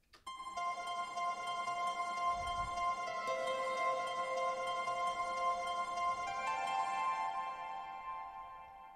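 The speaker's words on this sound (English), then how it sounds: "And the lead sounds like this" A bright synth lead from a melodic dubstep intro sustains long, shimmering tones over a soft background, with a low thump early on and the pitch shifting a few times before it fades at the end.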